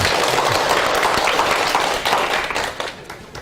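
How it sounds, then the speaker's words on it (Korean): Lecture audience applauding at the start of a talk on Indian Buddhism and Madhyamaka thought, a dense wash of clapping that holds steady, then thins and fades toward the end. "박수와 함께 해서 시작하도록 하겠습니다"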